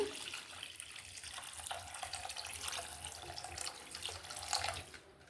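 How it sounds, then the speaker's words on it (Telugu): Water pours in a steady stream into a pot for making semolina sweet, a soft continuous splashing rush close by. "ఒక 5 కప్పులు నీళ్ళు వేస్తున్నాను నేను"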